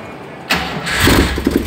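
A car engine cranks briefly, then catches and fires up, settling into a rough, steady idle with a couple of blips, close and loud in a workshop.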